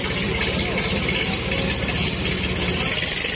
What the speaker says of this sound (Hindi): भाई देखो ये ट्रैक्टर दोनों जोर लगा रहे हैं पूरे